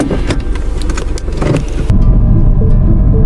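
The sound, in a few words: Mini Cooper S car driving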